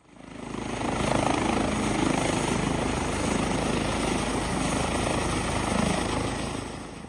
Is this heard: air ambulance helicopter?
yes